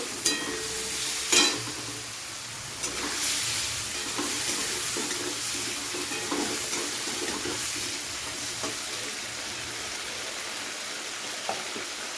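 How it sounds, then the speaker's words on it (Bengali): Chopped medium-sized tomatoes frying and being stirred in a pan for a vegetarian pointed gourd (potol) curry, a steady close sizzle with scraping stir strokes and a few louder clinks, no talking. "টমেটোটাকে একটু ভালো করে ভেজে একদম গলিয়ে দিতে হবে।"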